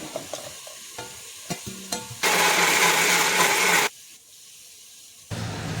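Half a kilo of tomatoes is ground in a kitchen blender, a loud roaring whir that bursts in for under two seconds after soft clatter and stirring, then cuts off into quiet before more cooking noise returns.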